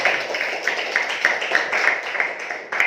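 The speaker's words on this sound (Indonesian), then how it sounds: "berikan tepuk tangan yang meriah buat" A classroom claps for student Rian Putri: steady, rhythmic hand claps at a lively pace, fairly close and continuous, with little talk.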